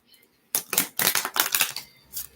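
Oracle cards being shuffled by hand: a quick series of close, crisp riffling and slapping bursts lasting under two seconds, with a brief pause before one last soft rustle.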